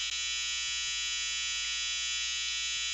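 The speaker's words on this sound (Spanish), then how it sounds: "Ese ruido es de una lavadora." A washing machine runs somewhere in the room, giving a steady, even mechanical whine and hum with a few faint low knocks. It continues unbroken and alone, with no talk.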